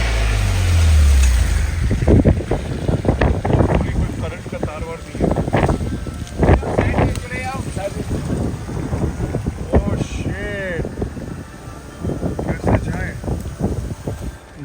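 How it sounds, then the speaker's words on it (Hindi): Strong wind buffets a petrol pump during a storm that has brought down wires, with low, gusting roar and microphone rumble, loudest at the start, running under nearly continuous talk. "ये है वेदर, क्या हवा भाई, क्या मजा।"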